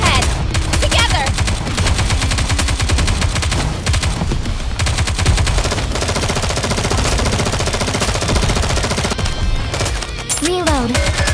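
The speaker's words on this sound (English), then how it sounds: "Focus fire! We need to fire straight ahead!" Sustained automatic gunfire in the mobile shooter game Nikke: Goddess of Victory, loud rapid bursts running almost continuously, layered with game music and effects.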